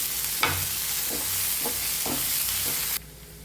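Chopped green chillies and coriander leaves sauté in a pan for a puffs filling, giving a steady sizzle with a few spoon-stirring scrapes before the frying noise drops away near the end.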